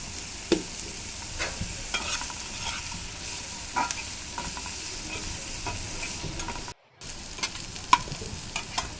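Pointed gourd peels fry with turmeric in hot oil: a continuous close sizzle punctuated by scattered spatula scrapes and clicks, with a short break partway through.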